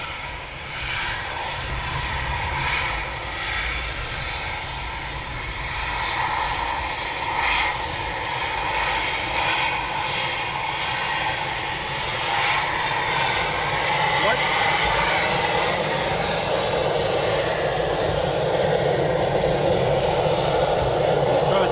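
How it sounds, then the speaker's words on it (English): An RAF Eurofighter Typhoon jet taxis toward the runway at RAF Coningsby, its engines a loud, steady roar that slowly swells over about twenty seconds, heard from close by outdoors. "First Typhoon taxi now for runway 25"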